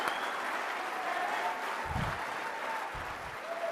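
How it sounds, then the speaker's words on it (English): An audience at CPAC 2021 in Orlando, Florida applauds: a steady, dense wash of many hands clapping together, moderately loud and a little distant, with a couple of low thumps and no clear talking. "Let's give them a round of applause."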